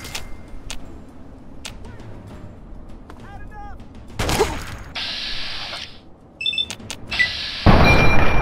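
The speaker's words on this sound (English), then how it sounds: "shooting the pillar." Gunfire aimed at a pillar in the video game Fallout 3, scattered sharp shots and heavier booming blasts with impact noise, fairly loud, interleaved with other game sounds and a voice talking at times.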